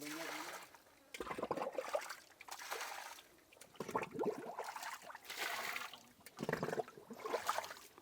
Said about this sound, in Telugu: అక్కడ లోపల నుంచి మీకు వాటర్ ఆ సొరంగంలో నుంచి బయటకు వస్తుంది